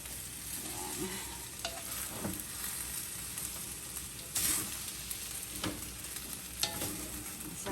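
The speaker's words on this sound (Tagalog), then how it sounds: "medyo mahirap na siyang haluin at medyo dumidikit na sa kawali" Thick sticky rice biko is stirred in a pan as it starts to stick, giving a quiet continuous scraping and soft sizzle with a few sharper utensil scrapes against the pan.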